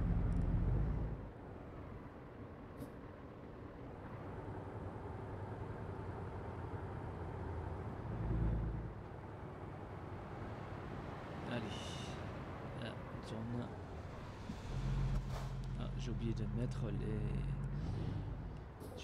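A car engine hums in a driving video game set on American roads: a low, steady drone that swells and eases with speed, fairly faint and mixed with game sounds, while someone talks over it at times.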